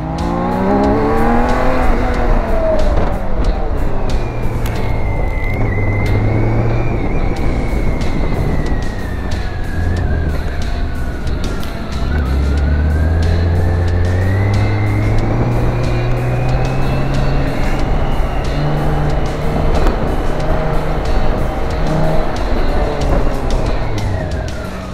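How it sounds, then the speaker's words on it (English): A BMW K1600 GTL motorcycle accelerates hard and brakes, its engine whine rising and falling loud and close over constant wind and road roar, with no talking. "Hard acceleration, hard braking, weaving, that all puts some heat into the tires."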